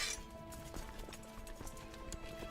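Horses' hooves clip-clopping in a strategy video game, a faint, quick run of soft hoof knocks, fairly even in rhythm and heard alone at low level.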